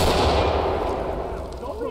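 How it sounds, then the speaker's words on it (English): A flashbang grenade bursts in the tactical shooter Ready or Not, a loud close blast whose dense, rumbling roar fills the moment and fades slowly with no voices. "So I'm gonna open clear with flashbang"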